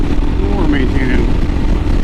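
A 2022 Royal Enfield Himalayan motorcycle climbs uphill under throttle, its engine a steady low drone mixed with heavy wind rush at close range; a rider's voice talks over it.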